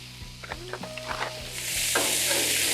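Frozen corn is dropped onto a hot Blackstone griddle beside bacon and its oil, a few scraping spatula taps first, then a loud, continuous sizzle that swells and holds.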